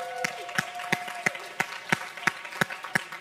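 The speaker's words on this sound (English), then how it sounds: "can you please stand up so that we can give you a round of" A congregation applauding fathers at a Father's Day church service: a slow, evenly spaced run of single loud claps, about three per second, sounding like a few hands rather than a full crowd.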